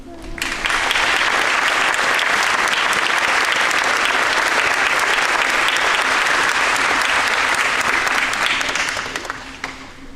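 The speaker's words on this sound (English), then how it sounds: "Let's give a nice round of applause for Mrs. Kelly King" A crowd at the 2021 Morristown Jr Senior High School graduation ceremony breaks into sustained, even applause that swells quickly, holds steady for several seconds, then fades near the end.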